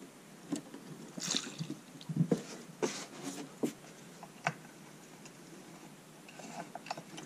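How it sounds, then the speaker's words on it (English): Gasoline sloshes and rinses through the lower end of a chainsaw crankcase being cleaned of metal particles, with irregular light splashes, clicks and knocks of handling, fairly quiet and close, with no talk. "it's a good idea to rinse out this lower end with gas to clean any metal particles out of there"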